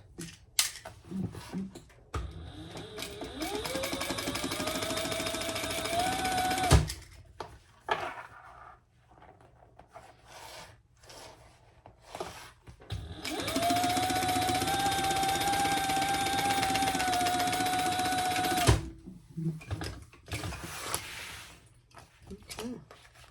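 A sewing machine stitches a hobo-style shoulder bag in two long, steady runs, each rising to a sustained whine, separated by a pause filled with clicks and handling noise.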